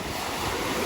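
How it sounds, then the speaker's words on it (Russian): Strong wind and breaking sea waves on a Turkish beach make a steady, full roar with gusty buffeting against the microphone throughout, and no voices. "Ветер действительно сильный."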